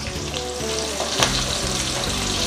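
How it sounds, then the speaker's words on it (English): Chicken wings deep frying in a pot of hot oil, a steady dense sizzle and bubbling that holds at an even, fairly loud level throughout, with no voices over it. "fry them until they're golden brown, just like this"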